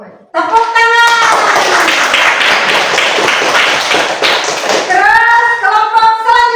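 A classroom of children claps hands together, loud and close, in a sustained burst of several seconds, with a child's or teacher's voice before and after.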